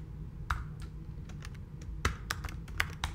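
Keys clacking on a computer keyboard at a desk, sparse irregular taps then a quicker cluster of strokes, close and fairly quiet over a low background hum.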